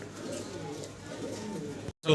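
A large pair of fancy jet-black pigeons coos continuously in low, throaty rolling notes close by, then briefly cuts off near the end.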